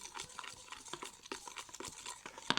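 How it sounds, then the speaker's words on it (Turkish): A spoon stirring a mixture in a bowl gives soft, repeated scraping and tapping strokes at close range, with a sharper clink near the end. "Şimdi bunu karıştıralım"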